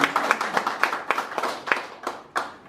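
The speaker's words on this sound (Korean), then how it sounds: "나오셔서 큰 박수 부탁드립니다" A small audience claps to welcome a chairman onto the stage at a formal invited-guest event, a short burst of distinct, fairly close hand claps that thins out toward the end.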